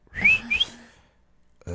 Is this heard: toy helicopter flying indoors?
no